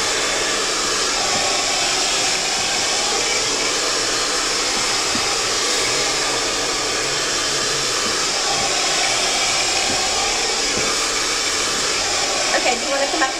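A hair dryer fitted with a nozzle blows a constant, loud rush of air during hair styling at a styling academy, unbroken for the whole stretch with a faint voice underneath.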